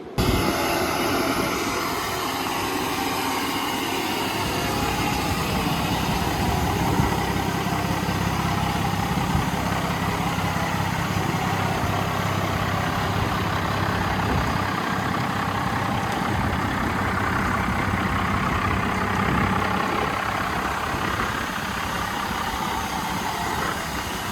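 A second-generation Dodge truck engine idles steadily with a loud, constant rumble and droning hum that holds even throughout, heard close with no talking.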